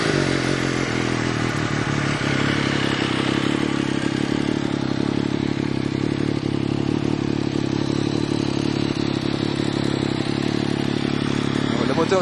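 An MV Agusta F3 800 motorcycle engine, already warm, runs at a steady loud idle with mechanical clatter throughout, heard close up without talk.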